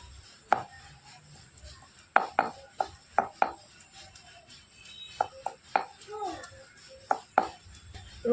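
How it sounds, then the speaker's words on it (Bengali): Garlic cloves being crushed for olive pickle, a series of sharp, close thuds and knocks in irregular bursts, with faint voices and clinks in the background. "রসুনগুলোকে একটু থেতো করে নেব।"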